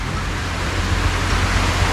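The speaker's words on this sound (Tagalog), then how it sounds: "umuulan pa rin mga kanuli" Heavy rain pours steadily over a house construction site, a dense continuous hiss with a low rumble underneath, close and loud with no voices.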